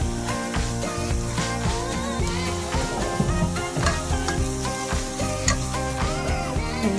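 Garlic added to translucent onion sizzling steadily in hot oil for Bicol Express, a continuous crackle sitting under loud, rhythmic background music for the full stretch.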